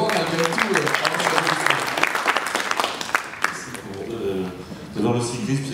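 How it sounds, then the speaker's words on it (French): Audience at a sport and society round-table discussion claps loudly with sharp, dense hand claps that thin out and fade, as a speaker's voice comes through near the end. "Monsieur Fin, qu'on a le droit d'applaudir aussi"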